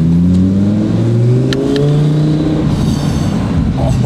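An Audi R8 Turbo engine held at high revs, loud and close, its pitch drifting slightly as it drones on without a break.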